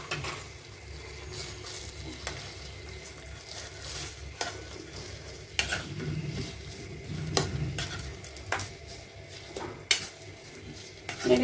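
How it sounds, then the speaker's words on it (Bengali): Hair oil blended from three kinds of oil with hibiscus and aloe vera is stirred in a pan on a stove, giving a steady run of scraping strokes and clinks over a low sizzle, close by, with no talk. "এবার এটাকে ভালোভাবে একটু নেড়ে দিব।"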